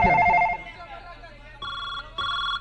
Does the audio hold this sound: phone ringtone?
yes